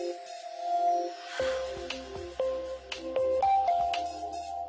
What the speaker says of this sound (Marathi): फोन वाजते.